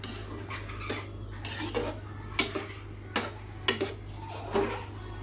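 Carrot halwa with khoya being stirred in a pan, a spoon scraping and clinking against the metal in irregular strokes over a low steady hum, fairly quiet and close.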